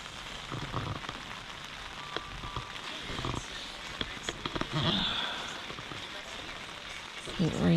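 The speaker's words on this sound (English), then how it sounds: "the rain's dying down a little bit." Steady rain patters on a camping tent while camping, a dense close hiss with scattered louder drops, and a voice speaks briefly in the background.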